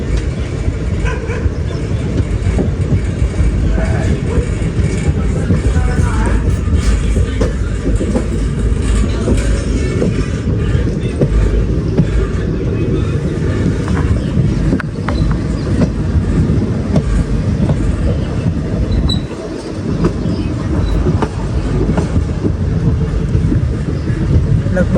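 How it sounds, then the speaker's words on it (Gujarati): A passenger train bound for Rishikesh, heard from inside a carriage: a constant loud rumble and rattle of the wheels runs throughout, with faint voices and other background sounds mixed in. "આપણે ફાઇનલી બેસી ગયા છીએ ટ્રેનમાં અને પહોંચવા થયા છીએ ઋષિકેશ"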